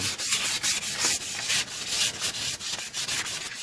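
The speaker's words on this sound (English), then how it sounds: "just take some real fine sandpaper, sand the shoes, sand the pads a little bit" Fine sandpaper rubbing over brake shoes and pads from a 1955 Cadillac Coupe DeVille, a steady close scratchy scrubbing in quick repeated strokes with no talking.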